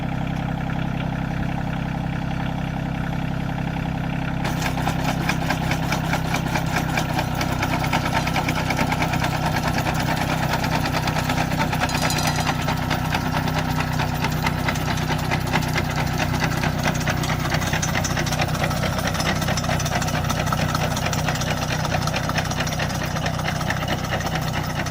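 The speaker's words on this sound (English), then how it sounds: "We've slowed the tractor down to an idle, and you can regulate your shaker speed that way." A tractor engine idles steadily with a low, even rumble and mechanical rattle while pulling a potato digger on a 3-point hitch, with the digger's shaker clattering alongside, continuous and close throughout.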